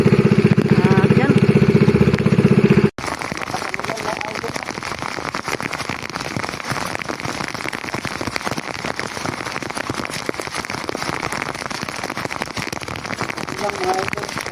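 Heavy rain hammers steadily on a surface nearby, a dense continuous roar with an abrupt shift in tone early on.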